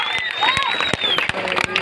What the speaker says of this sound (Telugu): అందరూ మనం అందరూ క్లాప్స్ కొట్టాలి